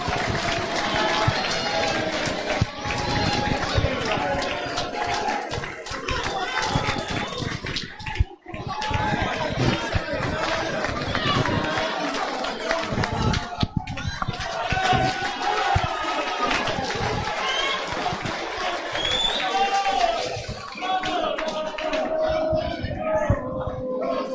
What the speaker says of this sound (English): What a reaction from the crowd!